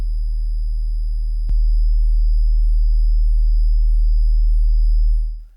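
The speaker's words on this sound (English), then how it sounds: "I'm using a sine to show you this." A pure sine wave from a Prophet VS synthesizer holds as a steady, unbroken tone with faint noise and a thin high artifact, a soft click part way through, then fades out at the end; no voices.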